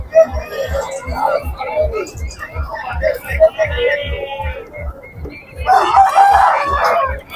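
Country chickens cluck and crow at a village livestock market near Vizianagaram, close and loud, with a steady low thumping underneath and people talking nearby.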